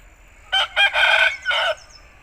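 An Aseel rooster crows once up close, a loud cock-a-doodle-doo in several distinct bursts with brief gaps, over faint background hum.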